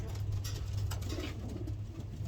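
Racing pigeon held in the hand giving a low, muffled coo close by, faint against steady background hiss, no talk.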